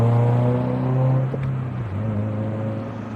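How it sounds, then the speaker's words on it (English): A 2022-or-later Subaru BRZ / GR86 with an aftermarket exhaust rumbles loudly nearby, its tone falling off as the throttle lifts, with a brief crackle mixed into the deep drone. "All the pops and bang, that sounds great."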